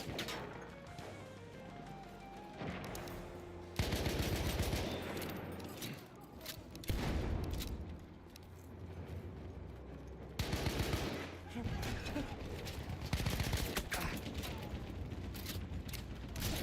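Sustained Battlefield 1 multiplayer gunfire, dense machine-gun bursts and shots rattling on and off for the whole stretch, with louder volleys breaking in several times, all under a busy game mix.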